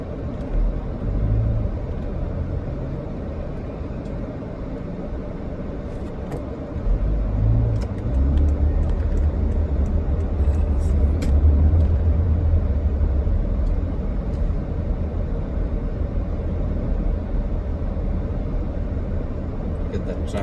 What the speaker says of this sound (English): Look at the traffic in Sydney.